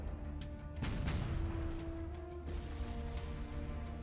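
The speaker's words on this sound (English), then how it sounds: "That's a direct hit with the plasma on the turret." A plasma cannon scores a direct hit on a turret in the naval combat game From The Depths, giving a loud broadband crash and rumble with a ringing tone, followed by a second impact and sustained mechanical drone.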